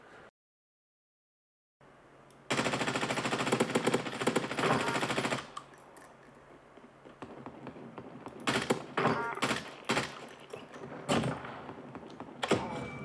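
Gunfire in the video game Call of Duty: Warzone, a dense burst of rapid automatic fire followed by scattered shots and impacts of varying loudness, moderately faint.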